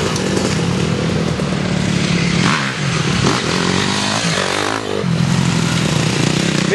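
Racing motorcycle engines rev loudly and continuously at a dirt-bike race, with the pitch dipping briefly as throttles ease and then climbing again.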